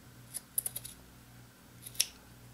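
Scissors cutting paper for a mini photo album cover, several quick crisp snips in a short burst, then a pause and one more sharp snip, close and fairly quiet.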